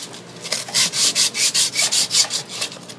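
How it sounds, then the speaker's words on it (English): Rhythmic back-and-forth sanding of a rusty metal filter drier with sandpaper, about a dozen gritty scraping strokes in quick succession, close and fairly loud with no talking. "just give it a good sanding"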